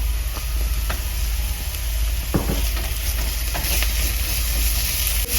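Ginger and garlic paste sizzles in a pan with browned onions for prawn vindaloo, giving a steady close frying hiss with a few soft stirring scrapes throughout.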